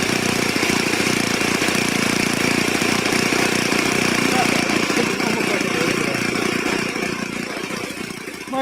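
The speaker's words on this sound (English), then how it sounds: "It's powered with a Sato 62 engine" A model airplane's Saito 62 glow engine drones steadily at high pitch, loud and close, with a rattling buzz that holds constant before easing slightly near the end.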